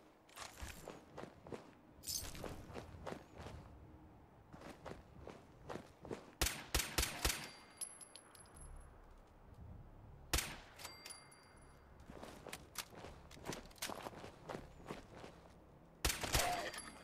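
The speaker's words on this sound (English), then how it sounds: "Finally got a silencer on this gun." Suppressed gunshots from a silenced gun in Fallout 4 come as sharp, muffled cracks, sometimes single and sometimes in quick clusters, spread across a quiet stretch with footsteps and faint game ambience between them.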